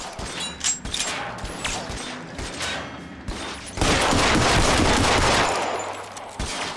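Rapid automatic gunfire from the video game L.A. Noire VR crackles in repeated bursts, swelling into a louder, denser volley midway before easing off.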